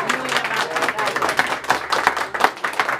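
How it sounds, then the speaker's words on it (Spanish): An audience claps during a mariachi birthday serenade, loud, close and brisk, with individual hand claps standing out among a lively crowd and some voices mixed in. "Un aplauso, bonito, señores."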